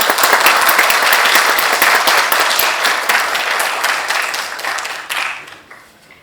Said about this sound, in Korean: 회장님을 박수로 맞아주시기 바랍니다